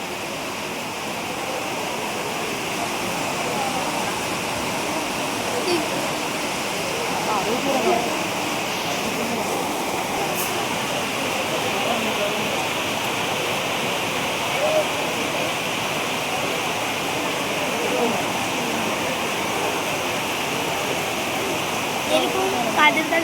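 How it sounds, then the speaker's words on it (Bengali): Heavy rain heard from aboard a train, a steady broadband wash of rainfall that runs loud and unbroken throughout, with train rumble beneath. "ট্রেনে উঠে দেখো ভীষণভাবে বৃষ্টি হচ্ছে"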